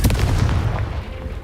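Confringo explosive spell blast in Hogwarts Legacy, a single loud, close booming burst that hits at once and then rumbles and fades over about a second.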